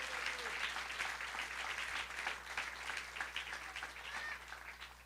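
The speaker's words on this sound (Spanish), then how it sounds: "Dale un fuerte aplauso al Rey" Congregation applauding God during an evangelical church service, a steady, fairly distant wash of many hands clapping with no break across the whole stretch.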